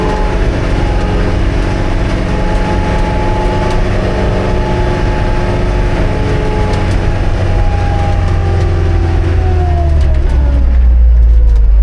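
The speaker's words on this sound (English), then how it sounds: "We'll rev her out." A diesel amphibious ATV revving hard while climbing out of a ditch, a loud, constant droning engine roar that strains and shifts pitch near the end, with no talking.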